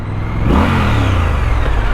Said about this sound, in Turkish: Stok egzoz olmasına rağmen ses çok iyi. Çok muazzam bir sesi var.